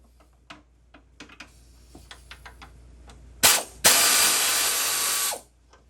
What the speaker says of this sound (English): So, get my air wrench on it.